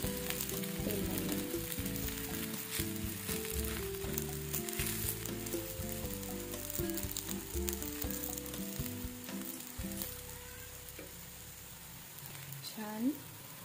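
Oil sizzles under a chapati frying in a pan, a steady crackling hiss that runs throughout and fades slightly toward the end, with a voice talking over it.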